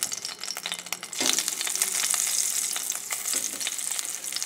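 Pork shoulder browning in garlic oil in a pot, giving a loud, close, spitting sizzle that swells and crackles with brief stirring scrapes, and no voices.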